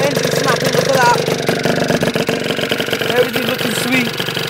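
A freshly built Gilera Pink Bullet motorcycle engine runs and revs with a steady, rough throb, partly masked by voices and other tonal sound over it.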